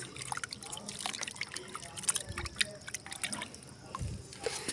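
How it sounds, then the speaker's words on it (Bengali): Organic fertilizer soaking in water is stirred by hand, giving soft trickling, dripping and sloshing sounds, faint and close, with irregular small splashes. "তো আমি এটা ভিজিয়ে রেখে একটু ভালো করে নেড়ে চেড়ে নিচ্ছি"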